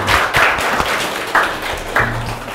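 Students in a Thai school classroom give a short, scattered round of clapping, with a few sharp bursts of hands standing out over a loose patter.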